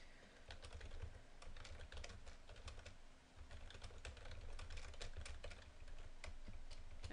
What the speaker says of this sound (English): I typed too fast.